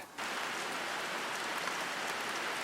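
Steady rain pours down, a dense even hiss that starts abruptly and continues without pause, fairly close and with no one speaking.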